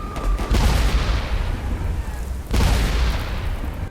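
Mortars and gunfire boom and crackle continuously in a World War I trench video game, with two heavy blasts standing out loud and close within a dense, sustained barrage.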